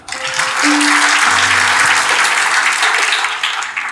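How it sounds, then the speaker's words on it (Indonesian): A church congregation breaks into loud, dense applause during a sermon, a steady roar of clapping from start to finish with some faint low tones underneath. "Beri tepuk tangan."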